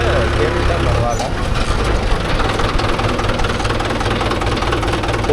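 A Mahindra 575 DI tractor engine runs steadily with a low, heavy drone while pulling a 9-tine cultivator across a dryland field. The engine is loud and continuous throughout.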